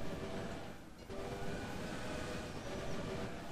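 Trains rumbling along in the Railway Empire video game, a dense continuous rolling rail noise with steady engine hum, briefly dipping near one second, with no talk.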